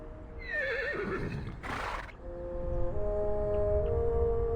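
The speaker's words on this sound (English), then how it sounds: "The horse lowers its head." A horse in the video game Reverse 1999 gives a loud, wavering whinny close by. A short breathy snort follows, then sustained tones of the game's music carry on behind it.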